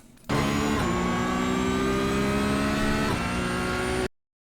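Porsche 992 GT3 Cup race car engine at full throttle in iRacing at Zolder, a steady high-revving howl held for about four seconds before cutting off abruptly.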